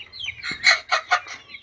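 Free-range village chickens on a farm, some kept in quarantine for a swollen-eye snot infection, cluck in three or four short, loud, close bursts over a faint low background hum.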